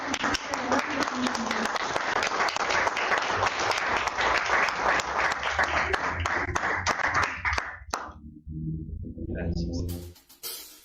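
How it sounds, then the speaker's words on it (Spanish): A church congregation gives a strong, sustained round of applause in worship, many hands clapping loudly with voices mixed in, before it cuts off abruptly near the end. "damos un fuerte aplauso al Señor."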